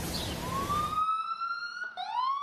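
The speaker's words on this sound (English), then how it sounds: "Out here in the streets, it's nothing but ambulance sirens." Ambulance siren on a New York street, a rising and sustained wail that rings out clearly and alone, briefly dropping and then sweeping back up, after a burst of broadband street noise.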